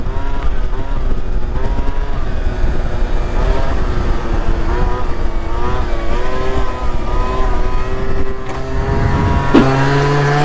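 A Booster Spirit scooter engine revs hard and steadily for about ten seconds while the rider holds a wheelie, a loud, close two-stroke drone with slight pitch swells and a brief change near the end.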